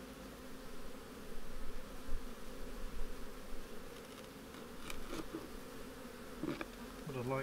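Honey bees buzz continuously around an opened hive box during beekeeping, a dense, steady drone with brief louder passes of individual bees flying close.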